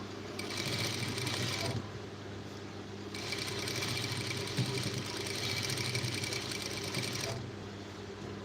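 A sewing machine stitches lace onto a blouse, its steady mechanical whirr running in two long bursts with a brief pause between, close and even in loudness.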